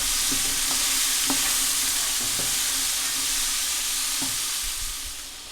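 Vegetables and garlic sautéing in a pot for lentil soup, a continuous close sizzle broken by a few sharp spoon clinks and stirring scrapes, fading slightly at the end with no talking.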